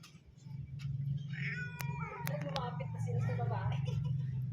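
Cats yowl and caterwaul as they square up to fight, drawn-out wavering meows rising and falling close by over a low steady hum, with someone talking quietly underneath.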